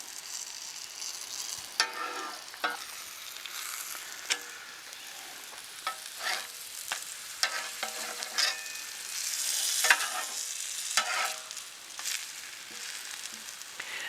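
Eggs and tortillas fry softly on a Blackstone portable griddle outdoors for huevos rancheros, a light continuous sizzle broken by occasional spatula scrapes and taps.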